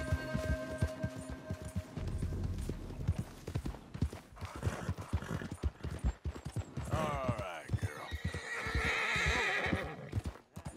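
In Red Dead Redemption 2, a horse's hooves clip-clop in a fast gallop and the horse gives a loud whinny partway through, close and busy with game sound effects around it.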